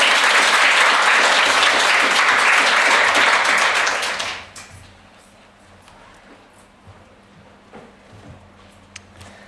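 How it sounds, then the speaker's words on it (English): An audience at a library conference panel applauds loudly for about four seconds, then the clapping cuts off abruptly, leaving a quiet room with faint rustles. "Round of applause"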